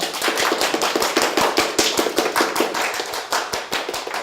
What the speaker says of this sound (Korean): 약 1시간 동안 열띤 토론을 해주신 우리 두 후보께 힘찬 격려의 박수 부탁드립니다